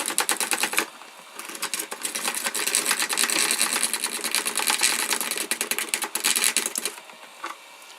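A wiper-motor-driven shredder using machine-shop metal cutters chews through 3D printed plastic parts, giving a loud, dense, rapid clattering and crunching that runs almost continuously, with brief pauses near the start and end, the motor never stalling.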